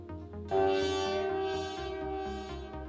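A plucked note on a Jamstik Studio MIDI guitar rings out and bends upward in a country blues style, wavering as it sustains over a soft repeating low accompaniment.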